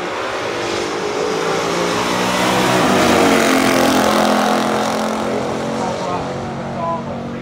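A 1967 Hemi GTX with 456 rear gears and a 1969 Chevelle Super Sport racing side by side, loud engines roaring steadily and building to a peak before easing off.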